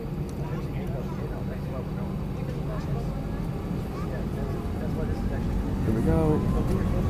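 A JetBlue Airbus A320 taking off from Newark Airport, heard from inside the cabin as a steady engine roar that swells slightly toward the end, with faint talk underneath.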